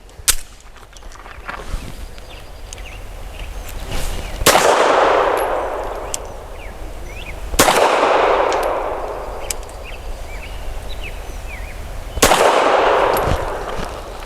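An FN Browning BDA 380 pistol fires 94-grain PPU Defense Line ammunition at an outdoor range. Loud, sharp shots ring out alone, each separated by several seconds and followed by a decaying echo.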